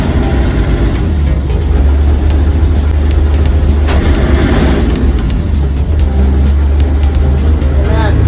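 A ship's engine runs loud and steady during an ahead and astern test on board, a deep continuous rumble with mechanical clatter, and voices can be heard over it.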